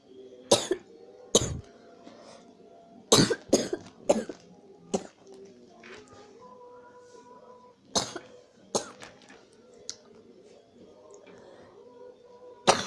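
A person coughs repeatedly, with sharp close coughs in uneven clusters and some throat clearing between them, over faint background sound from a Block Strike game session.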